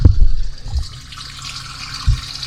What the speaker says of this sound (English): It is draining.